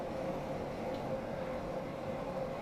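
A London Underground Bakerloo line train in Train Sim World 2, a steady low rumbling drone with a faint whine, continuous and fairly loud, no talking.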